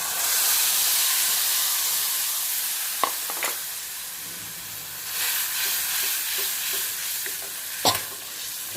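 Ground chilli, coriander-cumin powder and garam masala poured into hot oil with cumin and curry leaves, sizzling and hissing steadily, with a few stirring scrapes of a spoon against the pan.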